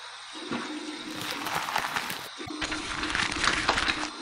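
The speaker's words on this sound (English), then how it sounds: "So here's my warm water rinse." Warm tap water runs and splashes at a bathroom sink as a face is rinsed after shaving, a steady rushing flow with a short break midway and nearby splashing on top.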